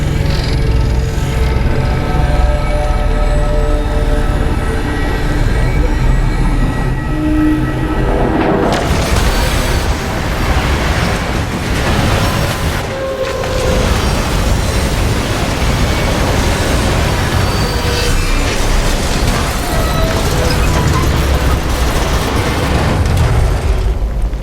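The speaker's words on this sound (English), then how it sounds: "I've seen primitive trains like this in old ruins." A train rumbles past in Destiny 2, a heavy continuous roar with rolling low-end booms and rattling that builds midway and stays loud throughout, with no talk over it.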